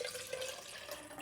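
Coconut water pours steadily into a container, a soft continuous trickling splash close by.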